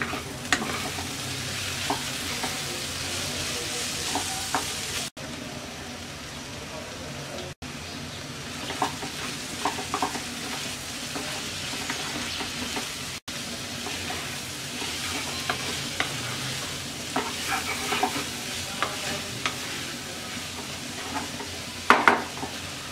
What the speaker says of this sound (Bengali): এবার আমরা ধনেপাতা কুচি দিয়ে মিক্স করে নামিয়ে নেব।